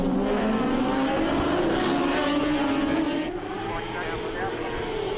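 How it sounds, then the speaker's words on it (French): Superbikes including Honda and BMW machines at a race start at Wakefield Park Raceway, a loud massed engine roar with rising and falling pitch as the pack accelerates past, with a commentator talking over it. "Et bon départ encore une fois des 3 pilotes Honda, également de la BMW de Glenn Allerton"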